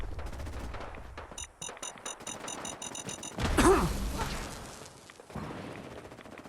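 An incoming artillery strike in Fallout 4, with rapid gunfire and loud impacts building to a heavy booming blast, then lingering rumble and further shots.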